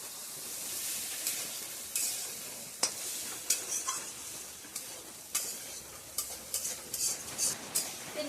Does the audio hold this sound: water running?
no